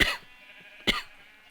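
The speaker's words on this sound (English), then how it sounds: "Oh, I knew I couldn't keep that cough in." A person gives two short coughs, one at the start and another just under a second later, fairly close and alone in an otherwise quiet room.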